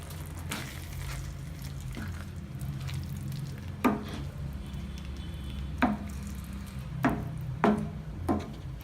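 Paneer butter masala being gently mixed in a pan, with soft scrapes and several sharper knocks of a spoon spaced irregularly over a low, steady background hum, no voices.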